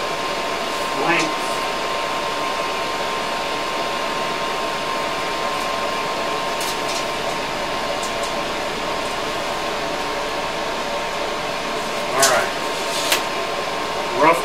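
A Hypertherm Powermax 45xp plasma cutter slices metal stock with a steady, continuous hiss and hum, broken by a few short crackling bursts near the end.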